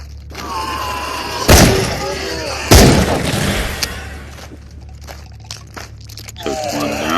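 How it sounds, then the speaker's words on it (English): Shotgun blasts in the video game Into the Radius, two loud booming shots a little over a second apart, followed by clattering reload and handling noises as game sound effects continue. "I decide I'm gonna pull out my shotgun."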